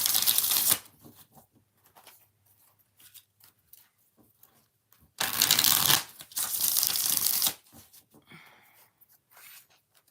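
Tarot cards are shuffled by hand in two loud, papery riffling bursts, one brief at the start and a longer one midway, separated by quieter handling clicks and taps.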